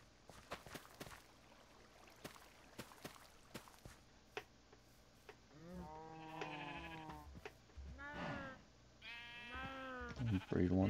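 Sheep bleating inside a village farm in a blocky survival video game, several wavering bleats arriving one after another in the second half, with soft footstep-like ticks and faint background sound before them.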